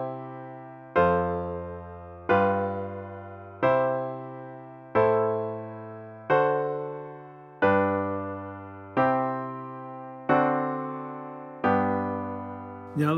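A chord progression that modulates to a new key through dominant seventh chords, played as ten evenly spaced, sustained, fading chords on a piano-like instrument, moderately quiet and with no voices.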